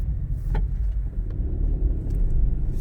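A Renault Clio 0.9 TCe turbo engine climbs a steep uphill ramp, a steady low rumble heard from inside the car, with a brief louder swell early on.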